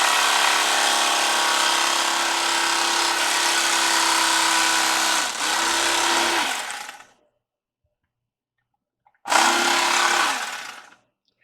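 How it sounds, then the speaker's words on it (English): An electric knife slicing beef for jerky gives a steady loud buzzing whine for about seven seconds, stops, then starts again for a shorter burst after a pause. "this electric knife made"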